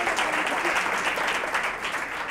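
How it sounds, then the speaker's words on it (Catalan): Studio audience applause for a contestant named Pilar on a Catalan television word-game show, a dense steady clapping from a crowd, loud and unbroken, with faint voices beneath. "Fem-li, si us plau, un aplaudiment a la Pilar."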